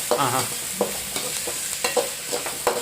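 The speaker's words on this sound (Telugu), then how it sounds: "ఇప్పుడు పేస్ట్ పచ్చి వాసన పోయేలాగా బాగా వేయించుకోవాలి." Spice paste fries with chicken for a curry, sizzling close and steady while a spoon scrapes the pan in several quick, regular strokes.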